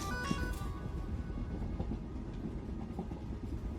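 A passenger train moves along the track with a steady low rumble and faint rhythmic clatter, and a brief tonal chime sounds near the start.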